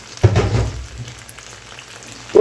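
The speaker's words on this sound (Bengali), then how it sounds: "কষিয়ে নিলাম, এরকম একটু কষিয়ে নেবেন কচুটা" Taro (kochu) stir-fried in a pan for a village-style beef curry, giving a short burst of frying sizzle and scraping early on that fades to a low hiss, with a brief clatter at the end; no one talks.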